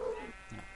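Sheep bleating in the Minecraft video game, a single short bleat heard close and moderately loud within a brief moment of game sound.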